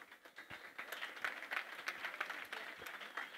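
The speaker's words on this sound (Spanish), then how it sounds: "Les pido un aplauso" Applause from an audience at a closing plenary session of a gathering, steady light clapping of many hands, fairly faint and distant, heard without speech.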